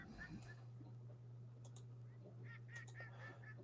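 Ducks and geese honking and quacking in a film soundtrack, several bursts of calls in the second half over a steady low hum, moderately loud.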